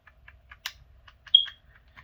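Small plastic button clicks from a Game Boy Advance tap quickly and faintly at close range, a light irregular series of presses in a quiet room.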